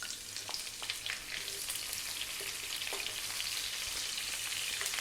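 Chopped onion hitting hot oil infused with whole spices, a steady close sizzle and crackle with occasional stirring clicks from the pan, continuous over medium heat with no talking.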